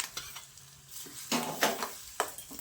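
Hot tempering of black gram dal and leaves poured into semolina batter, a close sizzle with bursts of stirring and scraping against a bowl, no voices.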